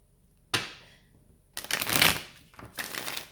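Playing cards being shuffled: a short riffle, a pause, then a longer riffle and a final burst, close and fairly loud with no talking.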